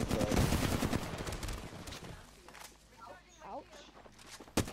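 Rapid bursts of Apex Legends gunfire crackle in a dense, loud volley, then thin out into scattered, fainter shots and footsteps while players talk over the fight.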